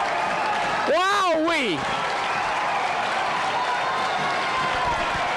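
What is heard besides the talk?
crowd applauding, standing ovation at basketball game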